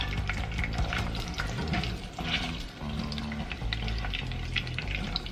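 Garlic cloves sizzling in a hot pan for jalapeno salsa, a steady close hiss of frying with soft crackles under low rumbling background noise.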